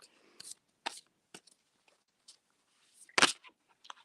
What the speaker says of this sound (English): Okay, I'm shuffling now for Sweet Vixen.